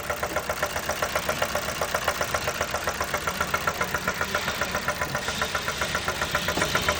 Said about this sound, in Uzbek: Shu katta motordan ovozga e'tibor beringlar.